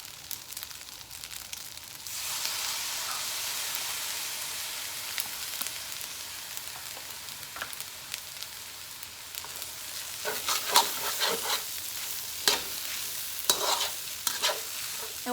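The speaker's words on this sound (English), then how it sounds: "we're going to stir our fried rice until our mixture is homogeneous" Fried rice with soy sauce and red curry paste sizzling in a hot pan and stirred, a steady close fry hiss with scraping stirring strokes that grow busier toward the end.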